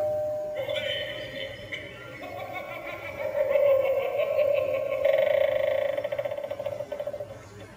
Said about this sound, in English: Another doorbell.